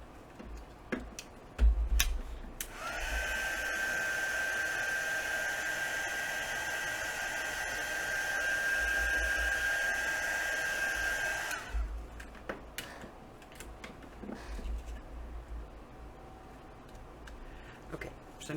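Hair dryer blowing steadily for about nine seconds to dry damp mica powder paint, a loud continuous whooshing hum with a faint whine that starts and stops abruptly, with light clicks and handling noises before and after.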